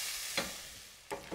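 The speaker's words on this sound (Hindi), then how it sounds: "अब इसमें हमने जो बारीक एकदम प्याज काटा था वो डाल देंगे।" Finely chopped onion goes into a kadhai and starts frying for Punjabi kadhai paneer, giving a soft, steady sizzle with a few brief stirring scrapes. It sounds quiet and fairly close, and nobody speaks.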